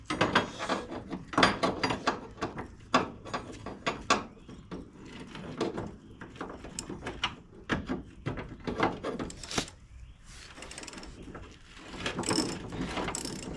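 A ratchet wrench tightens a body mount bolt on a Chevelle, with rapid clicking bursts and pauses between strokes, plus occasional knocks and metal handling over a close, busy workshop background.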